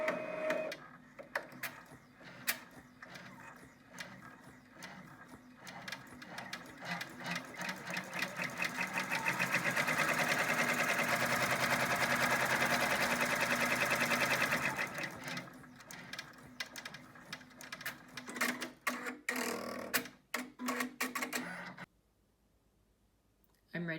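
An embroidery machine stitches the first step of a reversible key fob design onto hooped stabilizer: rapid mechanical needle clatter rises into a steady, loud whirring run midway, then resumes in choppier bursts before stopping near the end.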